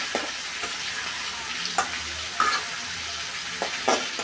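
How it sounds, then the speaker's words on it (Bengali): Mashed potatoes and prawns fry in hot mustard oil, a dense close sizzle broken by occasional stirring scrapes and small clatters of a spoon against the pan. "সরষের তেল দিয়ে দিলাম, তেল গরম হলো, এবার দিয়ে দিব মাখা আলু আর চিংড়ি।"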